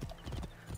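Horse hooves clip-clop in Assassin's Creed Origins, a quick run of close, muffled thuds in a steady rhythm over a brief stretch, no speech.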